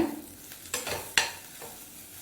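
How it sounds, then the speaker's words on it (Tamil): Spices for a South Indian poori masala stirred in a hot pan, with a soft steady sizzle and a few sharp scraping strokes of a spoon against the metal. "அந்த மசாலாவோட பச்சை ஸ்மெல் போக ஒரு தேர்ட்டி செகண்ட்ஸ் வதக்கி விட்டுக்கோங்க"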